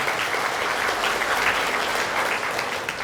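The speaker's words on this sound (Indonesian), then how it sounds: "berikan tepuk tangan kepada dua orang tampan operator kita," Steady, dense applause from a seminar audience in a hall, a continuous crowd of hands clapping at even loudness throughout.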